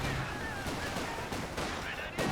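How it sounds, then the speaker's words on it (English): Gunfire rattles from a Company of Heroes 2 battle, with infantry support guns letting off heavy shots amid a busy, dense mix of repeated bangs over a couple of seconds. "big shots from the infantry support guns"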